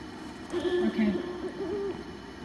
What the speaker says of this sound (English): There's an owl here.